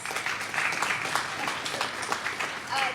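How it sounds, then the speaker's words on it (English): An audience applauds at the 27th annual STEM Braintrust, a science and technology session at a 2019 legislative conference, in a steady, dense wash of clapping that holds for about three seconds. "great applause is necessary"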